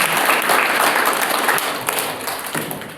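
A congregation at a Christian prayer gathering in Arunachal Pradesh claps hands loudly in praise, a dense, continuous burst of applause lasting a few seconds.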